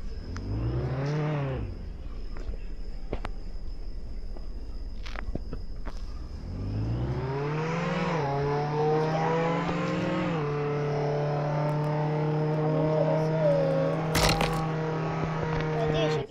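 Car engine in a jailbreak video game, revving with rising and falling pitch, dropping away, then accelerating and holding a steady loud drone, with a brief burst of noise near the end; someone talks over it.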